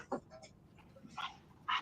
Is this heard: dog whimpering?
yes